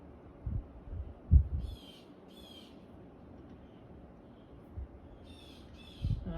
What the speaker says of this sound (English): Oh, the crazy bird is back, my loud bird outside.